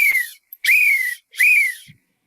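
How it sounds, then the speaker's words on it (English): A lifeguard's whistle, played as a radio drama sound effect, gives three sharp shrill blasts, the last two long and sustained. They are loud and close, with short silences between them and no voices. "suddenly the lifeguard blows his whistle and yells out to the waves."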